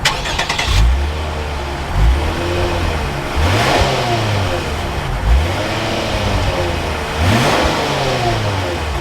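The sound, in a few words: 2021 Lexus IS 350 F Sport engine starting up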